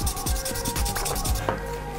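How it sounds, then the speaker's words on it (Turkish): Sandpaper rubbed across a surface in quick back-and-forth strokes, a dense rasping rhythm up close, with a faint steady hum beneath and no talk. "Zımpara işlemimiz tamam."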